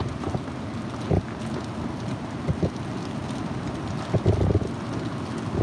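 Strong Typhoon Mangkhut wind buffets the microphone in a continuous rough roar, with gusty surges and occasional thumps rising from the steady outdoor rush.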